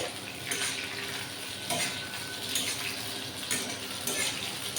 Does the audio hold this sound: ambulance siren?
no